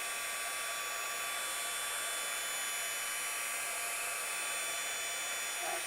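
A heat gun blows steadily as it melts a heavy coating of embossing powder on a handmade card, giving a constant airy whir that stays even and fairly quiet with no talking.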